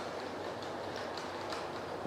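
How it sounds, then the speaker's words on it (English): A model railway Class 57 locomotive hauls Hornby Pullman carriages around the track, giving a steady close rolling rumble with faint rhythmic clicks and no talking. "I've got Class 57 and DRS delivery going around with some of the Hornby Pullman's"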